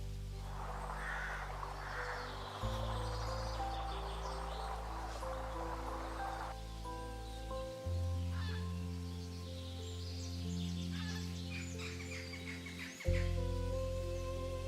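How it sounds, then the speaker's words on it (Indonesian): Several bird species call in a Papua forest canopy: layered whistles, chirps and sustained tonal notes overlap at moderate distance, with shifting steady tones running under them. "Kanopi hutan dipenuhi suara burung dari berbagai spesies."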